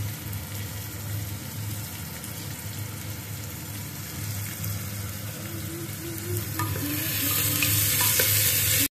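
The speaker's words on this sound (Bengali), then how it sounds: "তো পেঁয়াজটাকে আগে এখানে ফ্রাই করে নেবো।" Onions sizzle in a pan in a steady, close, continuous hiss that grows louder and brighter toward the end, with faint scraping from stirring and no talk.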